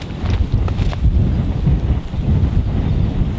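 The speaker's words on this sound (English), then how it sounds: "it's quite windy as well." Strong wind buffets the microphone continuously on a riverbank in winter, a loud low rumble with gusty surges throughout.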